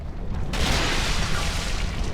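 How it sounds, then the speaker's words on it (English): A fire explosion attack in the Dark Souls 2 video game, a sudden burst that swells into a loud sustained roaring blast and stays dense to the end, with no voices. "Maybe it's only this one who does that little fire explosion up close."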